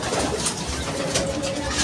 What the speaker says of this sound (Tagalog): Grabe, ang ganda, ang daming ibon ng ating lodi.